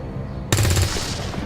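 A single gunshot at an Advent trooper in XCOM 2: War of the Chosen bursts in loud and sudden after half a second of quiet, with a rattling echo trailing off behind it.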